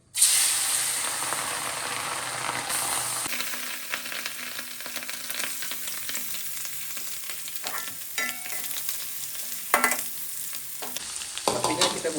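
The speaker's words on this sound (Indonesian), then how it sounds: "Kemudian kita goreng." Anchovies (ikan teri) fry in oil over a small flame, giving a loud, continuous sizzle and hiss with occasional stirring clatter and brief pops.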